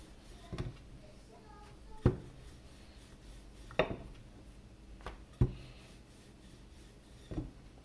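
A rolling pin works layered chapati dough on a floured surface, giving a slow series of five or six dull wooden knocks and thumps spaced a second or more apart over a faint rubbing background.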